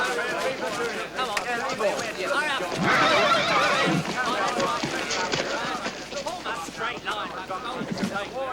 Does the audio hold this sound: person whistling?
no